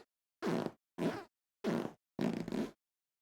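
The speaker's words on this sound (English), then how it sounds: "I'll keep farting" Four short fart bursts with brief silent gaps between them, close and fairly loud, alone with no talking.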